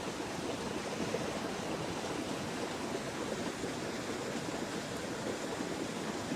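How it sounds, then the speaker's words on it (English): A creek runs behind a primitive winter camp shelter, a steady, soft broadband rush of flowing water that stays even throughout with no voices. "Enjoy the sound of the creek running behind us."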